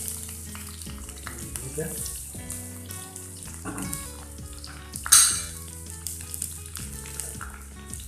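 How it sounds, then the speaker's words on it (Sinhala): Chopped big onions sizzle in a pan while a utensil scrapes and knocks against it, with a sharp clatter midway through the cooking noise and a brief spoken word. "දැන් කපපු ඒවා දානවා බෙදෙන්න."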